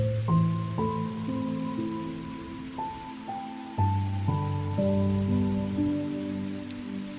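Rain patters steadily on a surface under gentle sustained musical tones, a calm relaxation backdrop with no talking.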